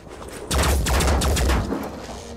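Gunfire in the Phoenix Point video game: a sudden loud burst of rapid overlapping shots with heavy low rumble, holding for over a second before tapering into a fading echo.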